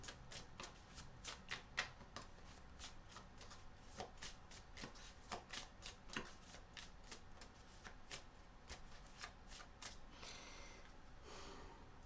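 Tarot cards are shuffled close by in quick repeated riffling bursts, a dry crisp flutter of card edges with soft pauses between, faint overall and without any talking.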